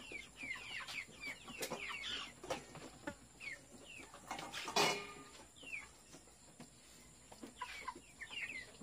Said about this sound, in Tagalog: So ito yung ating manok.